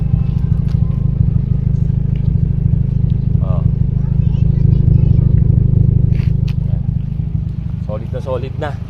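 A Toyota Corolla engine idles with a loud, steady low rumble and fine rapid pulsing, holding constant close by while someone talks over it.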